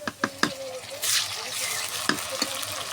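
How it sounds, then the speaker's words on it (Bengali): Onions fry in a pan with ginger garlic paste, sizzling steadily under the scrape and knock of a spatula stirring several times, with a few sharper clinks close by. "এখন আদা রসুনের সাথে পেঁয়াজের সাথে ভাজে নেব"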